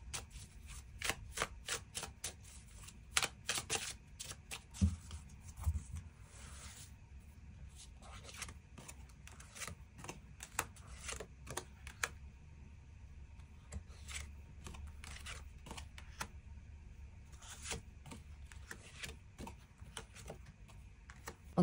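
Tarot cards shuffled and drawn close up, quick crisp riffles and soft slides in uneven bursts, with short pauses between, quiet and alone.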